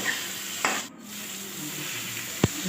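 Fried okra with chilli powder being stirred in a pan for a rohu fish sour curry: a continuous soft sizzle with two sharp spatula knocks, one early and one near the end.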